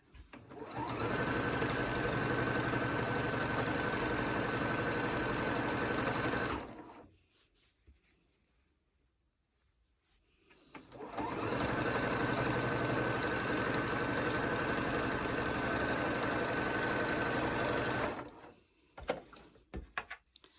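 A sewing machine stitching quilt binding runs in two long, steady whirring bursts, close and loud, separated by a few seconds of near silence, with a brief clatter at the end.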